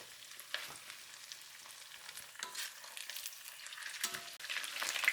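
Chicken thighs fry in a pan for a Chinese onion garlic sauce dish, giving a steady, fairly quiet crackling sizzle with scattered pops throughout, no voices.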